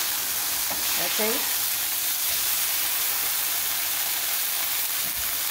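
Rolled chicken enchiladas frying in oil in a pan, a loud, steady sizzle and hiss throughout, close up, with a brief voice near the start.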